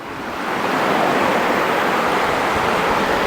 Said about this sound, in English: this is one of the rivers that crosses here